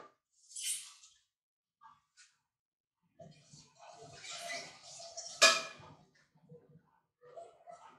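A spoon scrapes and clatters inside a cooking pot while spinach and lentils are stirred, giving scattered metallic knocks and scraping in short bursts with quiet gaps between them.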